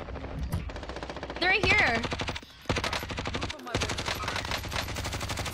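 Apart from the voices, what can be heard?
gunfire in the video game Call of Duty: Warzone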